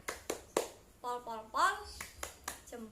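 A group of children claps in short bursts, sharp separate claps alternating with chanted voices, fairly faint and indoors.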